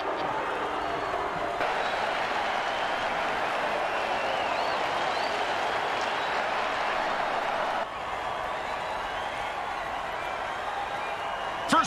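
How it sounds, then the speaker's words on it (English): Stadium crowd in an American football video game, a dense, continuous roar of cheering that holds steady throughout, with a slight drop partway through and no talk over it. "Oh, crowd's loving it."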